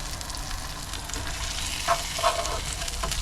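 Burgers with caramelised onions fry in a pan on a camping stove, giving a steady broadband sizzle with a couple of brief louder crackles or scrapes near the end, close and continuous with no talking.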